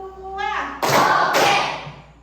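Children clap their hands together in a classroom counting game: two sharp, close bursts of claps, one right after the other, follow a woman's spoken prompt.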